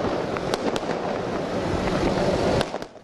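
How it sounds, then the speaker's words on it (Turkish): Fireworks set off by residents in Diyarbakır celebrating a newly asphalted street: a dense crackling roar with several sharp bangs and pops standing out, loud and continuous outdoors with some wind noise, fading at the end. "Vatandaşlar havai fişekle kutlama yaptı."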